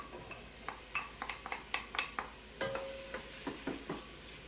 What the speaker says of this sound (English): So now that the onions are a little golden, I'm going to throw in the chorizo.